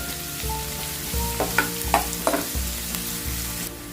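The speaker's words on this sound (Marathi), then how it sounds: "थोडासा ब्राऊन होईपर्यंत परतवून घेतो" Onions sautéing in a pan until lightly browned, a loud continuous sizzle broken by several stirring scrapes at irregular intervals, with no voices.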